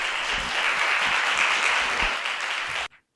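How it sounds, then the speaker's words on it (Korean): A lecture audience applauds to welcome Secretary-General Ban Ki-moon as speaker, a full, even burst of clapping that cuts off abruptly near the end, leaving near silence. "박수로 저희들이 환영을 해드리도록 하겠습니다"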